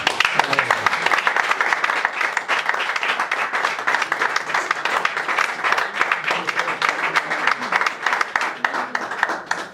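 A church congregation applauds, a dense sustained clapping that runs steadily throughout with crowd noise mixed in.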